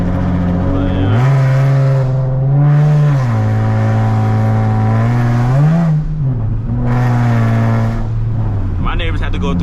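A straight-piped Nissan 370z engine revving, loud and close, with a droning exhaust note that climbs and settles through several sustained revs and brief dips in between.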